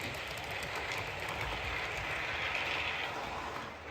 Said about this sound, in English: I can just let a train run.